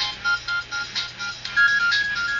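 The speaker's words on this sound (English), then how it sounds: "And the number is calling. You can see it here. It is ringing." An LG KE850 Prada mobile phone on prepaid service ringing, a bright electronic melody of repeated short beeping notes, close and clear with no talk.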